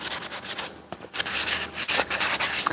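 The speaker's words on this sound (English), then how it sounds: "take it and belt sand it for me" A belt sander grinds against a resin dragonfly piece, giving a gritty rasping rub in repeated strokes that swell and fade, with a brief lull near the start, close and fairly loud.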